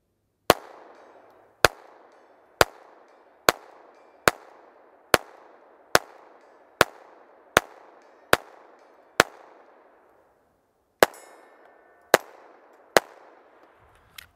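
A Taurus TX22 .22LR pistol fires about fifteen sharp, evenly spaced shots at 100 yards, each crack trailed by a short ringing decay, with one brief pause before the last few rounds.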